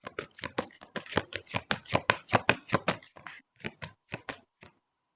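Tarot cards are shuffled and riffled by hand in a quick rapid flurry of crisp slaps, then a few slower separate flicks as cards are drawn, close and alone with no talk.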